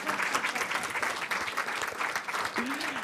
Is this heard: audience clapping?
yes